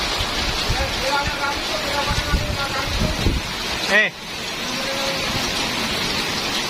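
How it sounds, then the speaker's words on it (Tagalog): Hail with large stones and rain falls with a dense, noisy patter, and wind buffets the microphone. Voices speak over it. "Grabe yan, lalaki ng yelo."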